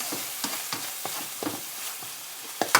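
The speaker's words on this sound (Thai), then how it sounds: "ผัดพอมีกลิ่นหอมนิดนึงค่ะ" Canned fish being stir-fried in a pan, the spatula scraping and tossing in steady repeated strokes over a soft continuous sizzle, close and fairly quiet with no voices.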